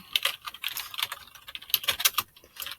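Quick typing on a computer keyboard, close and crisp, a rapid irregular patter of key clicks with short pauses between bursts, no voices.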